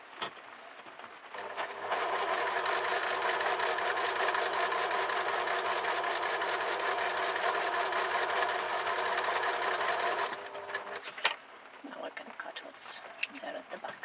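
A sewing machine stitches a quarter-inch seam in patchwork fabric, a steady rapid whirring run of about eight seconds that stops abruptly, with someone speaking before and after.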